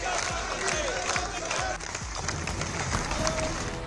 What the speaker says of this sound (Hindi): बैठक में तालियों की गड़गड़ाहट के साथ प्रधानमंत्री मोदी का स्वागत।